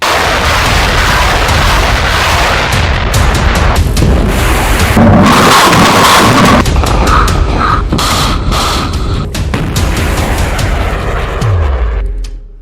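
A Hamas missile strike near Eilat, Israel comes through as a loud, continuous roar of booms and rumbling blasts, dense and heavy throughout before trailing off at the end.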